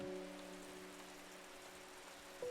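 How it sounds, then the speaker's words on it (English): Soft, steady rain patter in the game Strange Horticulture, a faint continuous hiss under sustained tonal music lines, with no voices over it. "It's raining. Still."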